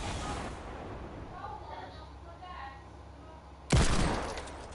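Hand cannon fire in a first-person shooter video game: a dense burst of gunfire at the start, then a sharp loud shot near the end, over game noise.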